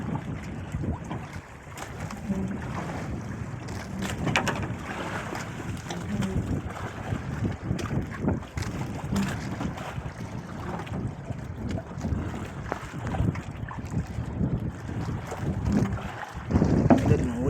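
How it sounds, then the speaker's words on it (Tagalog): Strong gusting wind buffets and roars across open sea from a fishing boat, with choppy boat and wave noise underneath, loud and constant throughout. "lalong lumalakas yung hangin"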